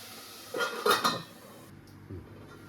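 A lid goes onto a pot of bottle gourd cooking with a little salt, a short clattering metal clink followed by a faint lighter tap, close and quiet, with no speech.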